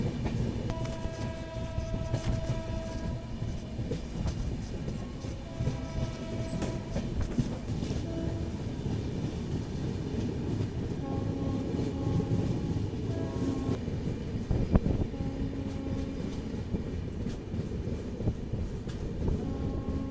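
Lucknow–Kathgodam Express running on rails near Lal Kuan Junction, a continuous loud rumble of wheels and carriages with rattling and squealing tones, heard from on board for the full stretch without talk.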